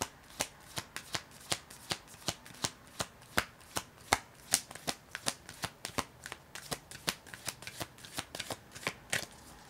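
Tarot or oracle cards shuffled for a card reading, a steady run of about thirty crisp, evenly spaced riffling snaps over ten seconds, close and clear with no voices.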